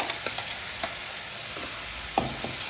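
Ground paneer masala gravy paste goes into hot oil and sizzles steadily while a spoon scrapes and stirs it in a few soft strokes, close and continuous.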